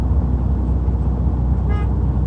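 A single short honk from a truck's electric horn sounds inside the cab during a pre-trip check, rising briefly over the steady, loud drone of the idling engine.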